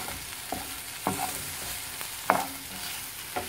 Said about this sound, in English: I'm stirring this a little bit